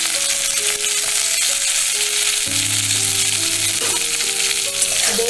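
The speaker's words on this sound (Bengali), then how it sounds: "রাঁধুনিটা একটু ভাজা ভাজা হলে এখন আমি ছোট ছোট কেটে রাখা যে বেগুনগুলো সেগুলো আমি দিয়ে দিলাম" Small chopped pieces of eggplant fry in oil with rãdhuni seeds, giving a steady, close, crackling sizzle that stays constant throughout.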